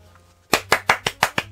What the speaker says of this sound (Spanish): aplaudo, no, aplaudo así